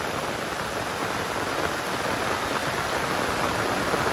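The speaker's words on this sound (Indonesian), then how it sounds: "Masya Allah, ini hujannya." Steady, dense rain pours down on a rural village, a continuous close hiss of drops hitting surfaces with no pauses and no voices.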